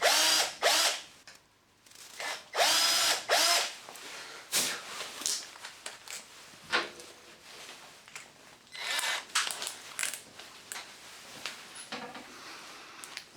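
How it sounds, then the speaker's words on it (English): Hinge sighting drill boring two pilot holes into wood for hinge screws, heard as close ratcheting, whirring bursts that start and stop repeatedly over the span. "And then we can take a hinge sighting drill."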